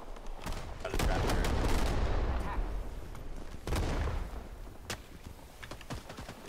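Gunfire in Rising Storm 2: Vietnam, with sustained rattling bursts and explosive thuds filling the first seconds, then sporadic sharp individual shots, some close and some farther off.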